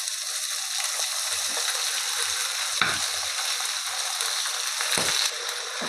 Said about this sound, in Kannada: ಇವಾಗ ರುಬ್ಬಿದ ಮಸಾಲೆ ಹಾಕ್ಕೋತೀನಿ